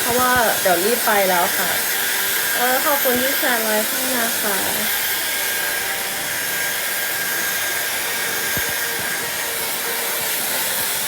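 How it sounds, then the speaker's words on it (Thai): A steady hair dryer roars continuously throughout, with someone speaking over it during the first half. "แต่อันนี้เสียงเป่าผมนะ"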